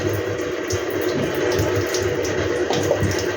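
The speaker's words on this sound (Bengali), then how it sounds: "জলটা দিয়ে দেবো" Water poured into a pot of rohu fish curry with poppy seed paste, a steady continuous splashing pour held at a constant level throughout, close and without talk.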